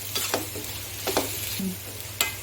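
Onion frying in a pan with a spoon scraping and stirring it in short bursts, a steady sizzle running underneath throughout, close and moderately loud.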